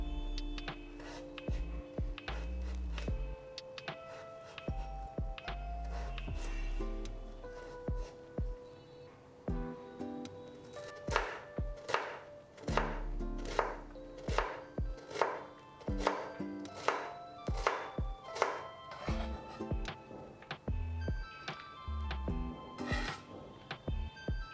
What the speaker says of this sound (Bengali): গাজর ছোট ও চৌকো করে কেটে নিতে হবে।